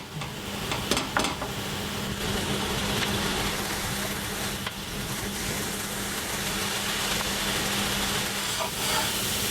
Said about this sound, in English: if you let it steam for a second, then the mushroom starts to release the water